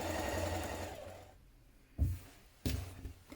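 A sewing machine stitches an interfaced front waistband onto trousers or shorts, a steady run of needle stitching that stops, then two short, louder bursts follow after a quiet pause.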